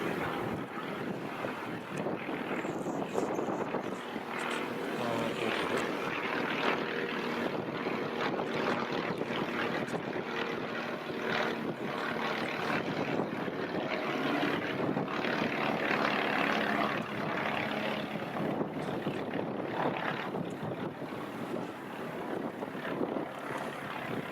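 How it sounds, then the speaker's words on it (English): A steady broadband roar of an airplane passing overhead, continuous and fairly distant, mixed with wind buffeting the microphone. "Oh, the plane's above us."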